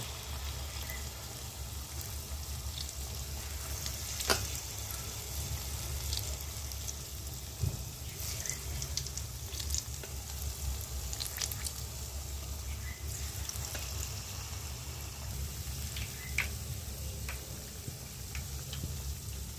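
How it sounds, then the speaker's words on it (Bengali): Palm fruit fritters (taler bora) deep frying in a pot of oil, giving a steady, fairly faint bubbling hiss with scattered small crackles and ticks, and no voices. "দেখুন বড়াগুলো ভাজা হচ্ছে তালের বড়াগুলো ফুলরির মতো হয়ে গেছে"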